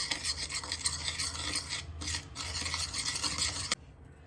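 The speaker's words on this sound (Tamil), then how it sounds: "இதை நல்லா வந்து மிக்ஸ் பண்ணிக்கணும்" Curd, chili powder and salt being mixed into a paneer butter masala marinade, a steady close scraping and rubbing of spoon through thick paste, continuous for several seconds before stopping abruptly near the end.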